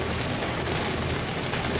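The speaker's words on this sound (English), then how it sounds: "And it's raining. And it's pouring." Heavy pouring rain outdoors on a trip in Brownsville, Texas, a dense continuous roar of drops with no gaps, fairly loud and steady over the short stretch, no voices.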